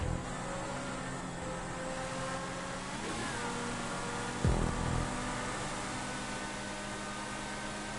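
A Lamborghini Gallardo or Aventador race car in the Need for Speed video game gives a steady, continuous engine drone with a brief louder burst partway through, heard alone with no talk.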